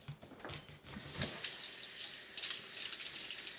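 Tap water runs steadily into a sink as onion pieces are rinsed under it, a close hiss and splash with slight shifts as the stream hits the pieces, no voices.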